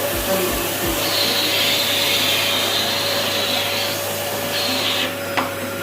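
A Polti Unico steam vacuum cleaner runs steadily close up with a loud whooshing hiss, its pitch rising and falling briefly as it works.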